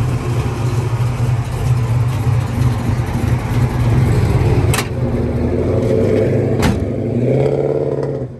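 A 1957 Chevrolet Bel Air's 283 V8 runs close by, a steady loud low rumbling idle with a couple of brief sharp transients and a slight rise in pitch near the end.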